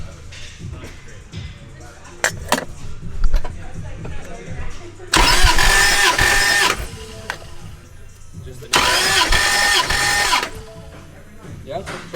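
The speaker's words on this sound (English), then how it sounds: "we're gonna hop in this thing and crank it for the first time and see if it actually builds compression on the back cylinder" A Toyota 2JZ engine fitted in a Mustang cranks over on the starter in two bursts of about two seconds each during a compression test, loud and close, with people talking between the bursts.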